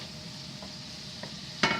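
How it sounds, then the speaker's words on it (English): Vegetables with pepper and salt fry in a pan for a quesadilla, a soft steady sizzle with a few scraping stirs and one louder clink near the end. "So now it's frying nicely."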